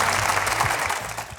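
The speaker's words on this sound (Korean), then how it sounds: "박수 주십시오, 여러분들." An audience bursts into a short round of applause at a live talk, a dense wash of clapping hands that fills the whole moment at steady loudness.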